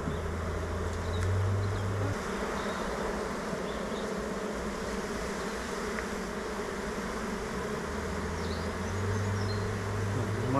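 Honey bees buzz steadily at an open hive while the nest is being expanded, with the comb already full of drone brood; a dense, continuous close swarm hum holds throughout with no talking.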